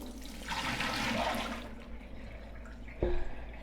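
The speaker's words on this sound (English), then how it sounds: "I'm going to get rid of this dirty water and get it clean." Dirty water is poured out in a rushing, gurgling stream for about two seconds, then trails off into a quieter trickle, ending with a brief thump.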